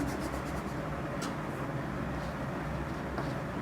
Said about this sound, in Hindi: तो यहाँ पे मैं लिखता हूँ y